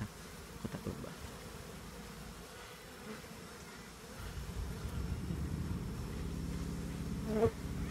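A relocated swarm of Apis cerana honey bees buzzes continuously at close range, a steady low drone that grows slightly louder and denser toward the end, with no voices.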